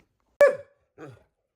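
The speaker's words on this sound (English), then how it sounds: "She's lately just started barking." A female dog gives one sharp, loud bark up close indoors, followed after a short pause by a softer, lower second bark or grumble.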